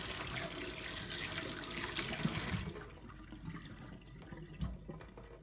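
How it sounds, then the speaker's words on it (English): Hot water runs from a household tap into a sink, a steady close rushing hiss for a few seconds before cutting off, leaving faint drips and small clunks in a quiet room. "We've got hot water there"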